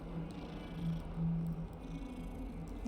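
A cat being petted in the video game Hogwarts Legacy purrs in a low, steady rumble with soft swells, quiet and close, with no other sounds intruding.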